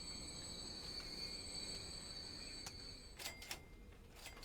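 A train runs in the video game Transport Fever, heard as a faint, steady rolling rumble with high whining, squeal-like tones above it and a few sharp clicks toward the end.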